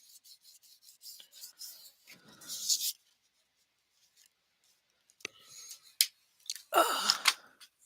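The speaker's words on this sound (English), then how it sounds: "let's go ahead and rub all this down, burnish it down real good" Paper being burnished down for card making: bursts of firm rubbing and scraping strokes, several quick passes, then a pause and more rubbing, close and fairly quiet, with no talk.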